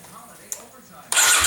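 A Kawasaki KLX 250 dirt bike with carburetor trouble cranks and then fires, the engine catching abruptly into a loud, rough run after quiet moments and a brief click.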